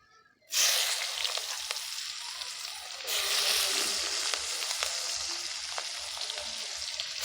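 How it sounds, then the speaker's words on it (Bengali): Onions dropped into hot oil in a wok over a clay stove, a sudden loud sizzle that bursts in and keeps hissing steadily, swelling slightly midway. "আর এই যে এবার পেঁয়াজ দিয়ে দেবো"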